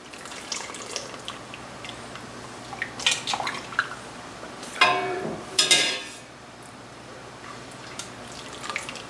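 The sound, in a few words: bell peppers plunged into ice water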